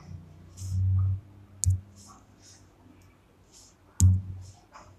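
Computer mouse clicks while selecting options on a land-records website, a few sharp isolated clicks spaced apart amid soft low room noise.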